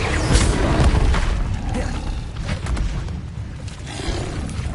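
A Confringo fire-blast spell in Hogwarts Legacy erupts in a loud, close boom that opens the moment, followed by crackling, rumbling debris and smaller blasts fading and returning over a few seconds.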